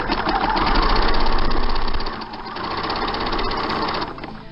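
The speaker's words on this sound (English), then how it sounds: "we're going to overlock or zigzag stitch on the machine" A sewing machine runs a wide zigzag stitch along the edge of a fabric and canvas cushion panel, a steady close mechanical whirr with rapid needle clatter that eases slightly midway, then continues.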